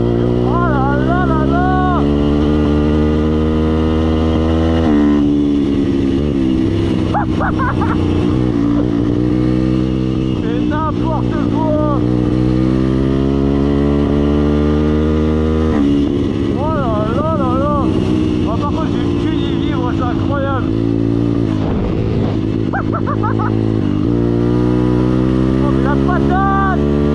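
Motorcycle accelerating on a first-ever ride, the engine loud and close as it repeatedly revs up and shifts in rising, falling sweeps, while a rider talks intermittently over it.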